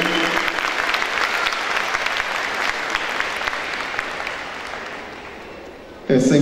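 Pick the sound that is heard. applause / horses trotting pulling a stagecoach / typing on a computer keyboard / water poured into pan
applause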